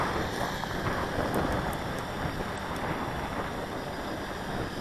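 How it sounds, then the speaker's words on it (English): Steady wind rushing around a hovering XK Detect X380 drone outdoors, a constant broadband roar with buffeting across the microphone and faint high rotor whine, no voices. "we got a steady wind here"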